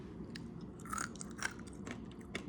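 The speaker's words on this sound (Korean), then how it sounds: "아까 베이컨 구운 거 진짜 바삭해요" Crispy pan-fried bacon being chewed close up, a few soft crunchy bites and mouth sounds at low level with no talking.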